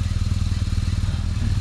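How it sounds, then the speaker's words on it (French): A BMW R1300 GS motorcycle engine runs off-road in the Andorra mountains, giving a steady low, pulsing throb with a fast regular beat, close and fairly loud throughout. "On coupe le moteur."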